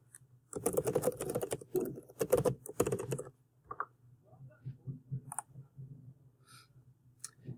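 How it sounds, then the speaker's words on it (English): Quick clattering keystrokes on a computer keyboard come in dense bursts, then sparser individual taps and clicks, close and fairly quiet, with no talk. "If you click Chat, you just type your message."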